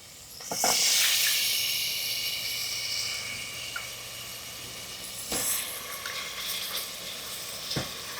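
Cut mudavattukal tuber dropped into hot oil with turmeric powder for a paya bursts into a loud, close sizzle that settles into a steady hiss, with a few light clinks of stirring and no voices.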